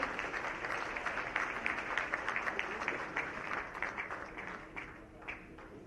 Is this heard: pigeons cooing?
no